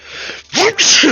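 A single loud sneeze comes through a gaming headset, with a sharp intake followed by a forceful burst, sitting close to the mic and heard on its own.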